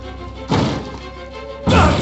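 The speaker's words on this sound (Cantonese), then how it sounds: "運動門又喺度砰砰砰！" A gym door bangs twice, two heavy close thuds about a second apart, each booming sharply against a low background hum.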